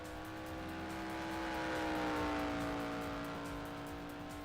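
A race car engine in a racing video game on a cruise lap, a steady sustained tone that rises gently and swells toward the middle before easing off, smooth and continuous with no talk.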